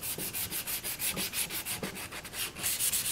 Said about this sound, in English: Barely sanding that with medium grit sandpaper